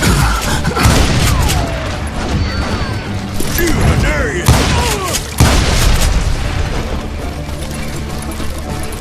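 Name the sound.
gunfire from hired guns in the video game Call of Juarez Gunslinger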